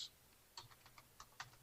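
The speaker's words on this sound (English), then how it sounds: "so I'm just typing in here" Someone types on a computer keyboard nearby, a handful of faint, irregular key clicks in a quiet room.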